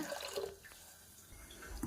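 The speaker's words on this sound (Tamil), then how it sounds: "தண்ணி ஊற்றிக்கோங்க." Water splashes and trickles into a cooking pot at close range, a soft short pour with gurgling, no voices.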